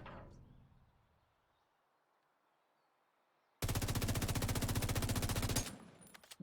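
A FAMAS rifle fires in the video game The Division 2. A quiet stretch gives way to a loud, fast, evenly spaced automatic burst of about two seconds that ends abruptly, followed by a few clattering sounds.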